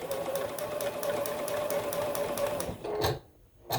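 A sewing machine stitches quilt fabric with a piecing foot, a steady rapid mechanical whir and needle clatter running close for a few seconds, then stopping with a couple of short starts.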